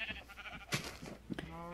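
A sheep bleats a few times in Minecraft, the last bleat drawn out, quiet and close.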